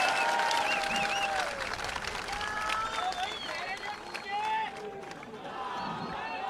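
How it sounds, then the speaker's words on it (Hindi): A crowd at a public meeting in Aurangabad, Maharashtra applauds loudly and continuously, with cheering voices and whistles mixed into the dense clapping. "तो एक जोरदार तालियां अपने खुद के लिए बजा दीजिएगा"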